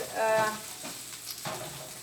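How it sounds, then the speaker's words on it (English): A vegetable stir fry sizzles in a hot pan as it is stirred, with a louder burst of frying and scraping at the start settling into a steady crackle. "I'm going to keep stirring because that's the whole thing with stir fry is you keep stirring it as it cooks"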